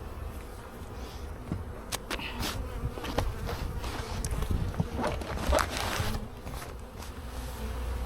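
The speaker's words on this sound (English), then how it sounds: "So this is my one hive that's busy." A busy honeybee hive in early spring, its bees buzzing steadily and close by, with scattered louder passes as individual bees fly near.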